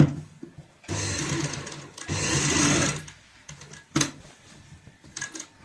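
Sewing machine stitching a homemade fabric doormat: bursts of steady mechanical whirring, with a long continuous run in the middle and shorter starts and stops before and after, close and fairly loud with no talk.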